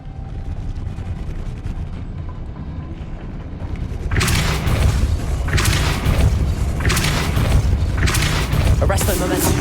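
A Depulso spell in Hogwarts Legacy goes off with loud bursts and thuds, several booming impacts following in quick succession after a quieter stretch of ambient noise.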